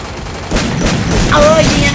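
Gunfire in the mobile shooter Free Fire, a continuous loud barrage of shots and blasts mixed together, with a voice partly heard over it.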